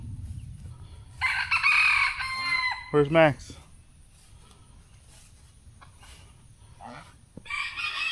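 Two fighting roosters out in a farmyard crow loudly, a long harmonic crow around the middle followed by a sharp shorter call, with a further crow starting near the end over low rumbling background; a brief spoken question comes early.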